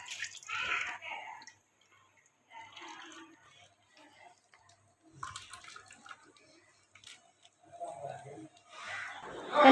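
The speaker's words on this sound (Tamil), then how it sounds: "தேங்காய் பாலை எடுத்து இந்த சட்டியில் ஊற்றிடலாம்." Coconut milk is poured into a cooking pan while making homemade coconut oil. Close, intermittent splashing and trickling come in several separate pours with quiet gaps between them, and someone talks in the background.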